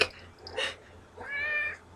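A pet cat meows close by, a quick short call followed by a longer drawn-out meow, with faint low hum in the background.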